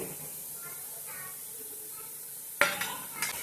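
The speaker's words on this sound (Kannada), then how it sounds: "ಚೆನ್ನಾಗಿ ಮಿಕ್ಸ್ ಮಾಡ್ಕೊಳ್ಳೋಣ." Spice powders are stirred into fried onions in a pan. A soft, low sizzle gives way to sharper scraping and clattering strokes of the spoon against the pan near the end, with a voice faintly present.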